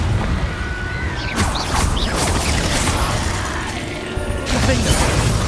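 Confringo blasting spell cast in Hogwarts Legacy, a dense, loud wash of crackling and clattering blast noise that runs unbroken, with sharper bursts swelling around the middle and again near the end.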